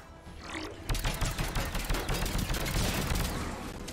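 Automatic turret fire in Mass Effect 3, a rapid run of sharp shots after a quieter start, continuing steadily at close range under a dense game soundscape.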